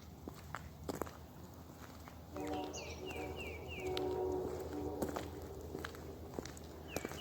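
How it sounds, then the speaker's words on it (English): A distant Amtrak train passes faintly beyond an abandoned hospital, a sustained horn-like tone rising for a couple of seconds, with scattered footsteps crunching nearby. "That sounds like an Amtrak to me."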